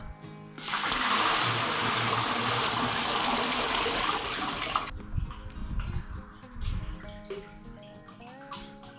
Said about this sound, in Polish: Teraz tą zupę sobie wlejemy do opryskiwacza.